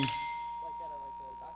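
A gas station driveway bell, set off by a car rolling over a cable, gives a single bright ding at the start that rings on and slowly fades, with a few faint voice-like sounds under the decay.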